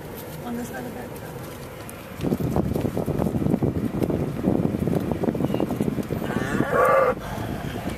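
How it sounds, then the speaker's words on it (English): A herd of cows crossing a highway moo repeatedly, loud and close, with lowing calls overlapping through most of the stretch amid wind noise and a brief clip-clop of hooves. "A herd of cows."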